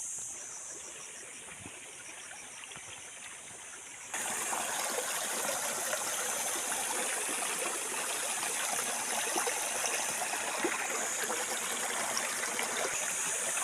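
A stream flows with a steady, close rushing and trickling wash, growing noticeably louder partway through and continuing unbroken without any voices.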